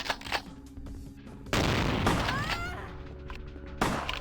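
Shotgun blasts from Vampire: The Masquerade Bloodlines ring out as a few loud, sharp booms, one near the start and heavier ones later, over game ambience with faint voices and effects between shots.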